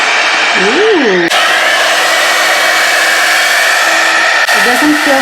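A hair dryer blows loudly and continuously, a steady whooshing whir, with brief voice sounds at the start and end.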